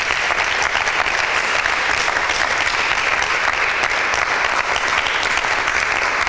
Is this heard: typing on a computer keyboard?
no